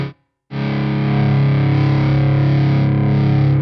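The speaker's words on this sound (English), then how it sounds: "after a certain point you start to also overdrive those power tubes a little bit" After a brief pause, a Friedman Little Sister guitar amp rings out a sustained, thick distorted chord, its power tubes overdriven by a high master volume, loud and close.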